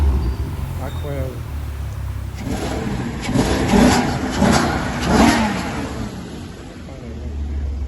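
A Maserati V8, the engine used in the Ferrari F430, revs in a couple of rising bursts over a rumbling base, then settles back; close and loud, with excited voices talking throughout.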